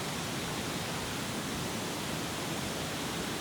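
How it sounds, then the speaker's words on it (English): Small waterfalls and pools in the jungle of the Bolaven Plateau, Laos, give a steady, dense rush of falling water that holds even and unbroken throughout, with no voices over it. "I love how there's just like loads of little waterfalls and pools to play in"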